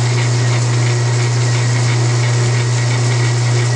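A T5 transmission gearbox runs in neutral on a bench, giving a loud, constant low mechanical hum with a steady whirring layer above it and no change in pitch or rhythm.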